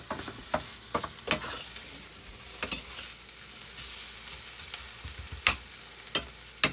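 Onions sizzle and crackle in a pan on a battery-powered cooker aboard a boat at anchor. A steady hiss runs throughout, broken by sharp pops and the scrape of stirring. No one speaks.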